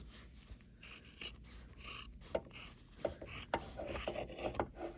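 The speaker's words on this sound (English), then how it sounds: "we're going to hold this strap connector out of the way and trim the back first" Scissors trim the back of an embroidered fabric piece, heard as quiet close-up rasping snips and rustling cloth, with a few sharper cutting clicks toward the end.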